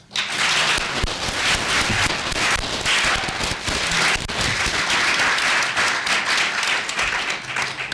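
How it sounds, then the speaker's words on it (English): An audience claps for a discussion panel in a continuous, full round of applause, many hands blending into a loud even roar that holds steady from start to finish. "Then I want to hear a round of applause for the panel."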